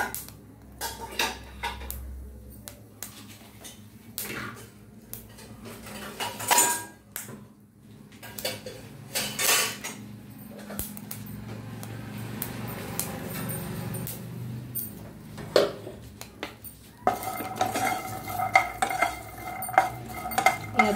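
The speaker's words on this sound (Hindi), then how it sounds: "तो बादाम रोस्ट होने में थोड़ा 5 मिनट टाइम लगेगा।" Almonds roast in a pan while being stirred, with metal utensil scrapes and clinks against the cookware in irregular bursts, some sharp and loud, separated by quieter stretches.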